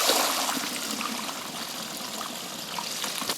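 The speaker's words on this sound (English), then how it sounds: "The water's running clear." Water runs steadily from a tap while dyed socks are rinsed after a dye bath, a continuous close splashing trickle heard alone.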